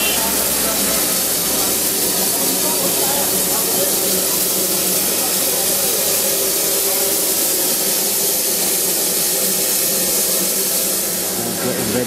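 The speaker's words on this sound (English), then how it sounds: "It's like your childhood steam train." A steam train in the Indian Himalayas hisses loudly and steadily as it gets ready to depart, a continuous close rush of steam lasting throughout, with people talking faintly underneath.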